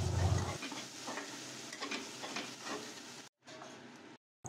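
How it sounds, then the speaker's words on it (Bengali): Chopped onions fry in a wok for a prawn bhuna, a close sizzle with scraping spatula strokes as they are stirred, cut off by short silent gaps near the end. "একটা খুন্তির সাহায্যে ভালো করে নেড়ে চেড়ে পেঁয়াজগুলোকে ভেজে নিতে হবে।"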